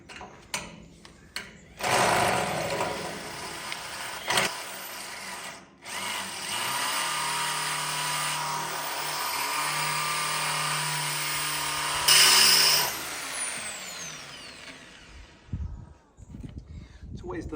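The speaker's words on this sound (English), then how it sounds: "so I'm going to have to drill it out." A power drill bores out a stuck screw during a tiny house store-room renovation, whining loudly and continuously up close for over ten seconds with short pauses at the start and a rising pitch near the end.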